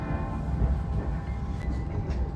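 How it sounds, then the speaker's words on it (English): Low, steady rumble of a London Overground Liberty line train to Upminster running along the rails under 50 km/h, heard from inside a carriage, with a faint hum and no talking. "This is a Liberty Line train to Upminster."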